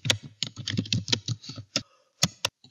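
Someone types on a computer keyboard at close range, a burst of quick key clicks followed by a few scattered separate taps.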